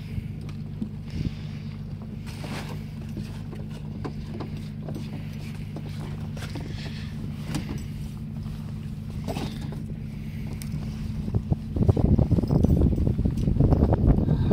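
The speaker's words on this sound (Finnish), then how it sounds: "Nyt riittää, että tyhjäkäynnillä vaan mennään taaksepäin, mutta pakki voi olla päällä." A boat engine idles in reverse gear with a steady, low, droning hum throughout, then swells louder and rougher near the end as throttle is added.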